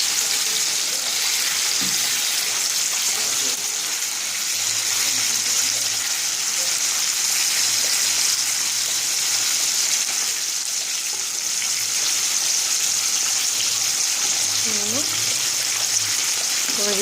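Food sizzling in a pan as it browns golden on its second side over moderate heat, a steady crackling fry throughout with occasional soft stirring and clinks, close up, with faint talk in the background.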